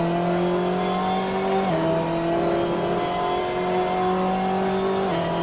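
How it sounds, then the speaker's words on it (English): BMW M8 GTE race car with a twin-turbo V8 in Assetto Corsa at Mugello, engine roaring loudly with clear upshifts where the pitch drops sharply, then climbs again, heard alone. "You can hear that engine just roaring off the grandstands."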